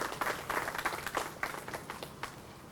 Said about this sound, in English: let's give a big round of applause for all our great small businesses